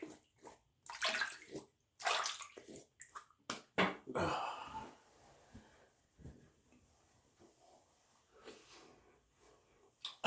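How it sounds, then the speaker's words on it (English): After shaving, a face is rinsed with water in splashing, irregular bursts from running water and cupped hands, close by, with snorts and breaths between splashes before it trails off to quiet dribbles. "Let's rinse this face off a little bit."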